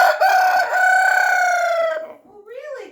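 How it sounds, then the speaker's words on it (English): A rooster crows close and loud at a morning milking, one long strident call lasting about two seconds, then a rising squawky tail. "I swear he wants to watch himself crow because he sits and watches himself in the camera and then he crows into it."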